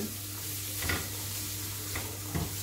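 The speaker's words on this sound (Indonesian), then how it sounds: "bawang putihnya, bawang bombay sama carrotnya ini dimasukkan aja, dilayukan." Garlic, onion and carrot softening in a pan: a soft, continuous low sizzle with a few brief stirring scrapes, fairly quiet and without talk.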